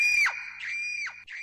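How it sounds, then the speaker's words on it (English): A loud, piercing scream in a narrated fairy-tale setting rises and falls in three sustained shrieks, each ending in a downward slide, heard alone and up close. "He heard a loud scream"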